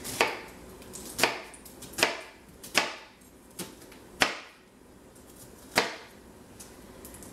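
A knife cuts through an onion on a cutting board, about seven crisp separate chops spaced irregularly over a quiet background, close and clear, with no talking.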